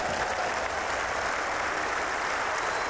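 Crowd applause at a 1993 county cricket match, a steady dense patter of many hands clapping at a distance, continuous and even throughout with no talk.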